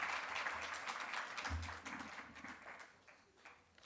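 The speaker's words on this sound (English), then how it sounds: "Give him another round of applause." Applause from an audience at a university science and technology speaking competition, honouring a former student: a moderate, fairly distant patter of clapping that holds steady, then gradually thins out.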